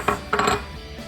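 A spoon or utensil scrapes and clinks against a bowl while mixing bread flour and all-purpose flour into dough, two quick close strokes followed by a fading ring.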